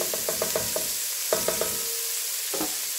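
Green chili stirred into a pork stew in a hot pot, with a run of soft rhythmic scrapes and clinks, then a pause, a few more stirring strokes over a steady sizzle, and a last scrape near the end.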